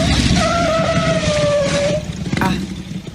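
A motor tricycle slows as it pulls over to stop, its engine droning loud and close with a falling whine before it settles to a rougher idle.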